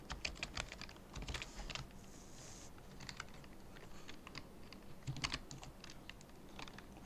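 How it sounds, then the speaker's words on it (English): Quiet bursts of typing on a computer keyboard, quick clusters of light key clicks with short pauses between, close and alone with no speech. "here you type Ubuntu"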